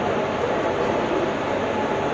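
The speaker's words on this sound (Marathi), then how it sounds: "आपली ट्रेन आली जवळ आता" A steady, loud rail rumble as the Latur Express rolls into a station close by, continuous with no pauses or voices.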